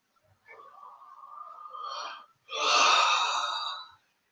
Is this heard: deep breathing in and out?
yes